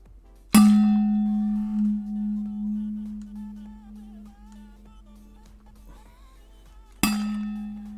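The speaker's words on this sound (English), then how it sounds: "let's do your bottle dings" A glass bottle is struck twice, several seconds apart; each loud ding rings on as a long, slowly fading tone.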